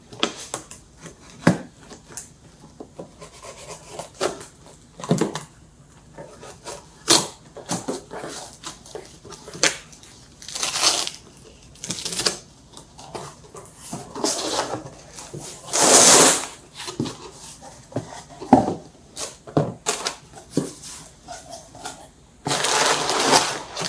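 New International DT466 engine parts come out of their packaging with irregular rustling, crinkling and sharp crackling bursts, close up and intermittent over about twenty-four seconds, with occasional quiet talk.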